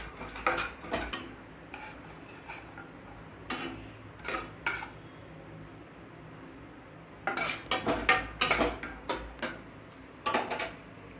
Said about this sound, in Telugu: మన డ్రై ఫ్రూట్స్, జీడిపప్పు కొంచెం లైట్ బ్రౌన్ వచ్చే వరకు వేయించుకోవాలి